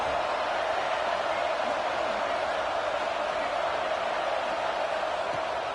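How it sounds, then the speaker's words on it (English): Stadium crowd roar from an NCAA college football video game, the Alabama home crowd at Saban Field on third down: a loud, unbroken wall of noise holding level from start to finish. "The Tide crowd rolling noise down onto Saban Field on 3rd down."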